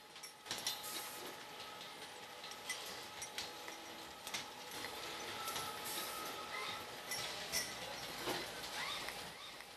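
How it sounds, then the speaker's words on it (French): An automatic capping machine on a gas-bottle filling line screws caps onto the bottles. It makes a continuous clattering and whirring mechanical din with scattered ticks and clicks throughout. "la chapeauteuse visse automatiquement le chapeau, contrôle son vissage et effectue un quart de tour arrière pour le débloquer"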